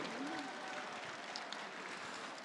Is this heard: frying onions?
no